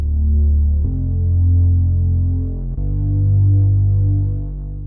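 A trance lead synth patch made in Native Instruments Massive plays three sustained, buzzy notes in a row, each changing pitch abruptly, loud and alone.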